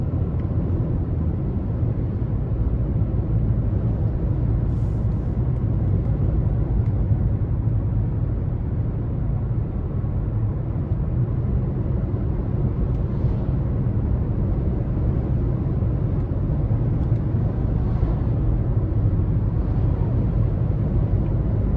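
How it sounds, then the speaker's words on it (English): Wind buffeting and passing traffic heard from inside the cabin of a 2022 Nissan Altima SR on the road, a steady low rumble of road and engine noise with soft whooshes of cars going by, continuous and fairly loud. "Even with the wind blowing around and the cars past me, I can just barely hear everything."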